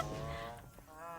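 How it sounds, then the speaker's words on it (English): A goose honks loudly and repeatedly in Funko Fusion, a harsh nasal call running through most of the brief moment and close to the listener. "The goose is stuck."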